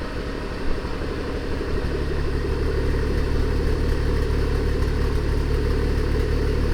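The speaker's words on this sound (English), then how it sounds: "What is that noise? My engine's like squealing." A BMW B58 car engine runs steadily at close range with a continuous rattly mechanical drone, a thin high-pitched squealing whine riding over the engine noise throughout.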